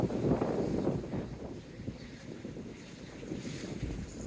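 Sea waves break on the shore at Dawlish, Devon, a rumbling low surge with wind buffeting the microphone, strongest at the start and easing into a steady wash.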